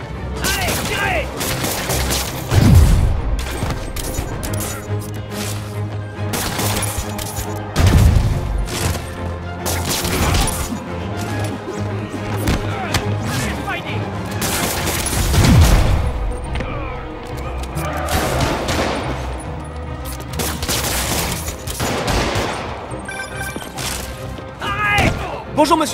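Repeated bursts of gunfire and heavy booming impacts in Marvel's Spider-Man Remastered, loud volleys rising and falling in waves amid game music and shouted voices.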